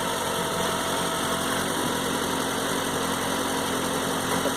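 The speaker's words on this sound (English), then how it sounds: "Let me have you hear the engine from the rear of the car." A mid-engined Mini Cooper idles, heard from behind the car, as a steady close engine hum with a constant vibrating drone and no change in pitch, with no talking.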